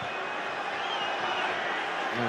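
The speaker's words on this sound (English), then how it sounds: "the crowd are screaming at them to get up" Football crowd roaring at a Liverpool versus Man City match, a dense, steady wall of stadium noise with a commentator talking over it.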